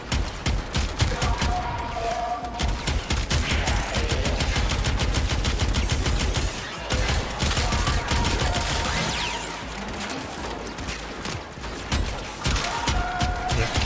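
Twin Kohmak shotgun pistols in Warframe fire in a steady, rapid stream of loud shots that runs almost without pause, with short gaps and faint voices underneath.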